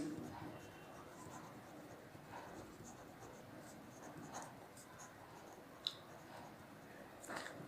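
Pen scratching on paper while writing out the answer to a trigonometry exercise, a soft, steady rustle with faint taps, heard close but quiet over a low background hiss.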